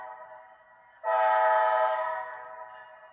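A loud, sustained train horn blares suddenly, holding one harmonic chord for about a second before fading somewhat and lingering, heard alone without any voices.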